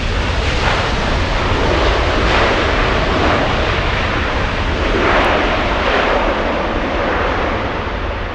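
Heavy Airbus A350 airliner landing on runway 24 right at LAX, a loud, sustained jet roar with broad rushing noise that swells gently and never fades, with no talking.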